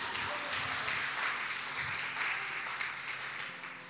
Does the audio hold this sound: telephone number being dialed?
no